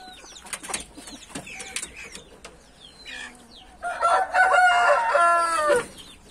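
Chickens and a rooster in a farmyard: scattered clucks and short calls, then a loud, drawn-out crow rising near the end, close by and with no talk.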